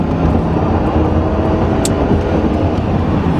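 A 1996 Chevrolet Impala SS with an LT1 engine accelerating in a roll-on pull, heard from inside as a loud, dense, continuous engine and road roar with no pauses.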